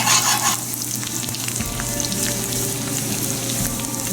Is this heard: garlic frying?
yes